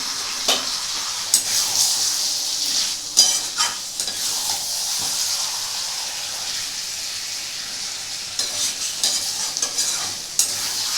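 Mutton liver sizzles steadily in a blackened wok while a spoon stirs and scrapes it, producing repeated clacks and scrapes over a continuous fry.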